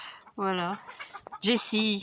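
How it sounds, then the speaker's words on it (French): Chickens cluck and squawk nearby in a backyard while a dog plays among them, two loud bursts of clucking with a person speaking briefly in between. "Ah, c'est mon chien, il joue avec les poulets."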